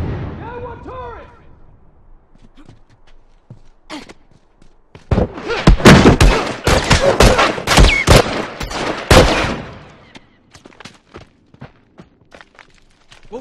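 Rapid turret gunfire in The Last of Us multiplayer match, a dense loud burst of shots lasting several seconds after quieter scattered shots and footsteps, with a voice heard briefly at the start.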